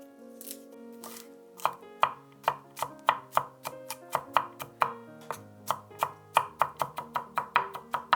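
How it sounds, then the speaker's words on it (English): A knife chops four garlic cloves on a board in quick rhythmic strikes that speed into a steady run of crisp, close taps. No voice is heard. "Chop 4 cloves of garlic."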